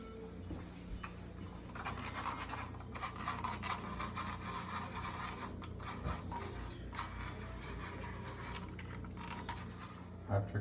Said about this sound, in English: now we can grate a bit of Parmesan over the mozzarella